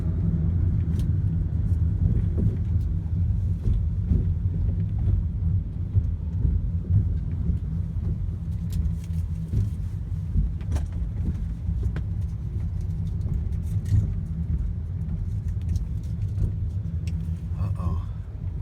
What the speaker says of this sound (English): Hit some Friday night traffic.